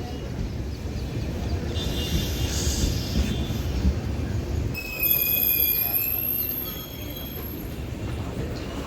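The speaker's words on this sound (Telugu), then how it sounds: "బండి బయలుదేరిపోయిందండి పోర్టుకి." A train pulls out of Kakinada station toward the port, with a steady rumble under high metallic wheel squeals that start partway through and ring out in layered tones.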